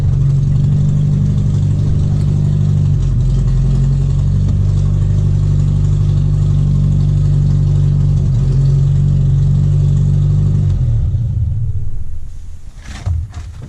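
A Datsun 1500 ute with a freshly repaired clutch hums in a steady low engine drone as it drives into a shed, then the motor cuts and a few clunks follow.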